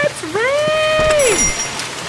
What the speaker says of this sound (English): Pissing rain outside.